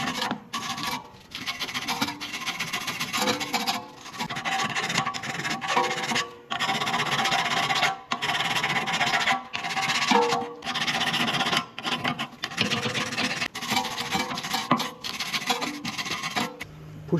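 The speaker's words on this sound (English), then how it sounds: "Clean brake bracket with the iron brush" An iron wire brush scrubs a Volkswagen brake bracket during a brake pad and disc job, a close, steady rasping broken by brief pauses between strokes, with no voices.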